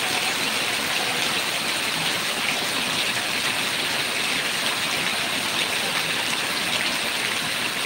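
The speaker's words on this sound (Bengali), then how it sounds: "আর এই 14 মিনিট ধরে পানি হয়েই যাচ্ছে।" Steady rain pouring down, a dense continuous hiss of drops striking surfaces nearby, unchanging in level from start to finish with no speech.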